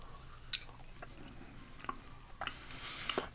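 Soft, close chewing of chewy oatmeal cookies, with faint moist bites and a few sharper crackly clicks scattered irregularly over quiet background.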